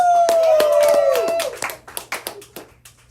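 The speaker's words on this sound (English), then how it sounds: "Give a round of applause for yourselves." A small studio audience on a podcast claps in scattered, distinct hand claps that thin out and fade, starting over a sliding tonal whistle that fades away.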